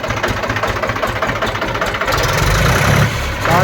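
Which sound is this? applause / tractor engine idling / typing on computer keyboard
tractor engine idling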